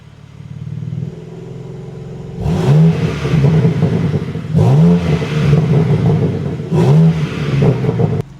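In M1 sport mode, a BMW M4 Competition coupe with 500+ bhp idles steadily, then fires off three loud, rising revs at regular intervals, heard close and without any voices.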